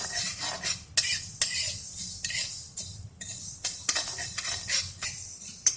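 Thirty grams of mustard seeds dry-roast in a pan with no oil, and a spoon scrapes and stirs against the metal in repeated sharp strokes, with faint crackling underneath and no talking.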